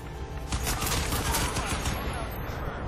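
Rapid gunfire from Crysis 2 rattles in loud, close bursts over a dense layer of combat noise, with a speaking voice mixed in underneath.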